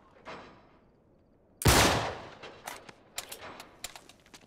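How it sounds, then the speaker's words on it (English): A loud, close gunshot fired at a lock in Uncharted 3, with a faint pop beforehand and a ragged run of sharper distant shots and clicks trailing off afterward. "Back up, I'll shoot the lock."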